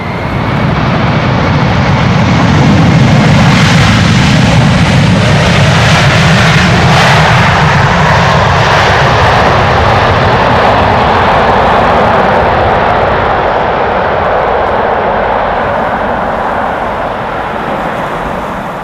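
A fixed-wing airliner landing in strong storm winds at Amsterdam Schiphol Airport roars loud and close, a deep rumbling engine wash that swells, holds steady for many seconds and slowly fades, with no talking.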